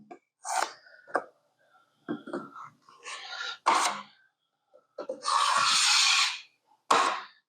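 A trowel or knife spreads a skim coat of joint compound over a textured, painted wall in short scraping strokes, separated by pauses, ending in one longer, louder drag followed by a final quick swipe.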